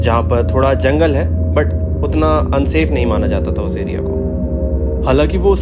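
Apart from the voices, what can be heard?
No distinct noise like a dog, phone or traffic.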